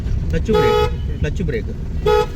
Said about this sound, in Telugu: రైట్ హార్న్ కొట్టాలి